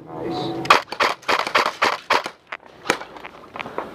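Sharp airsoft gun shots crack in a quick irregular string during an outdoor airsoft skirmish, close and fairly loud, with a brief tonal hum at the start.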